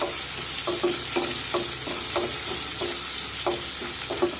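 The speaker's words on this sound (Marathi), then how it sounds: "आता मिरची सुद्धा लसणासोबत व्यवस्थित परतून घेऊया" Steady hissing sizzle of chillies and garlic frying in a pan, with regular scraping knocks of a spoon stirring, close and continuous.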